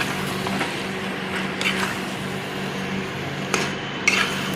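A spoon scrapes and clinks against a cooking pot while half-grilled chicken with capsicum is stirred and simmered, a steady low background with a few sharper metallic knocks.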